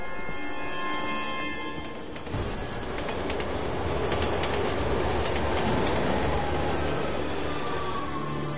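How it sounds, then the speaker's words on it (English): A train rushes past in the video game Resident Evil 6, a loud, continuous rumbling roar with clattering and rail noise that swells after a brief lull and keeps thundering close by for several seconds. "Look out! Train!"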